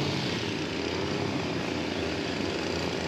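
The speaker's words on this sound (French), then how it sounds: "ne vous étonnez pas si vous entendez un peu de, voilà, les débroussailleuses" Brush cutters running somewhere near a pike fishing spot, a steady continuous motor drone heard at a distance, with no talking.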